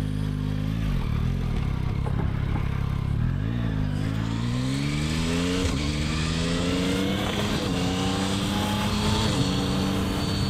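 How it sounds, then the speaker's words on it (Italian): Yamaha MT-09 Y-AMT motorcycle pulling away in automatic mode, engine note rising through repeated gear-change sweeps as it accelerates, loud and close with wind rush building. "adesso andiamo a avviare la marcia siamo in automatico e partiamo"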